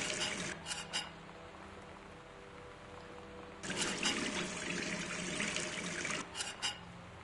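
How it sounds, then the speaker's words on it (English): A faucet turns on in the video game Gone Home, sending water running in a couple of loud, hissing bursts with quieter trickling between them. No one speaks. "it's the sound of the faucet turning that makes that noise"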